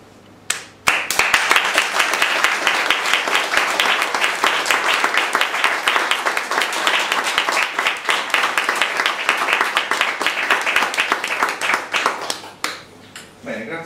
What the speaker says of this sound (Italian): L'applauso, mi è sembrato spontaneo per la prima volta